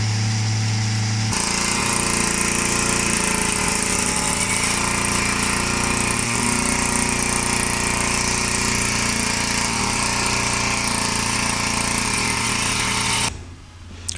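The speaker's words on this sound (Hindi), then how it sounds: "ये टीलर है, इस टीलर की आवाज़ बहुत होती है।" A loud garden tiller engine churns steadily at close range, a rough continuous mechanical drone that cuts off abruptly near the end.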